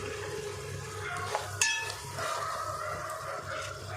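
Chilli powder, salt and tomato paste frying together for a Nellore-style fish curry give a steady low sizzle, with one sharp utensil clink partway through and soft stirring scrapes.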